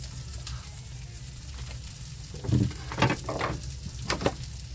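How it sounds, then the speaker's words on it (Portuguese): Garlic, onion and bacon sauté in margarine in a motorhome kitchen, a low sizzle over a steady background hum, with a few louder stirring scrapes and splutters near the end. "Dá uma refogada né, no alho, cebola e bacon."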